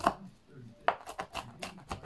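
A knife chops bird's eye chili peppers on a cutting board in a home kitchen, giving a handful of sharp, close, irregular chops with short pauses between them.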